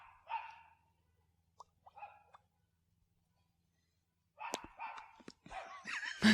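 People mimic dogs with their voices, giving a few short bark-like yelps that break off into silence before a denser burst of yapping imitations near the end.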